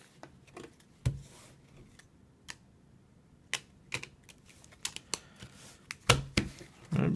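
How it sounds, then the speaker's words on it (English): Quick riffling clicks and soft flutters of a deck of Twilight Struggle cards being shuffled and cut, a few sharp bursts spaced apart, close and fairly quiet. "Give those a quick shuffle, quick cut."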